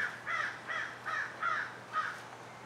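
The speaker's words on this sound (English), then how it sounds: "Obnoxious bird." A loud bird calling outside, five harsh, evenly spaced caws at a steady rhythm with a faint background hum and no talking.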